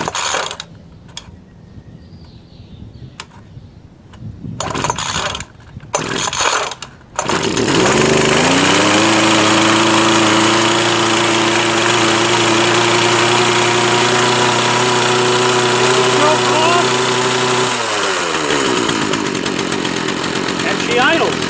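A small gasoline engine, started on half choke, catches and settles into a loud, steady, buzzing idle close by, with a brief rev change near the end and a person talking before it starts.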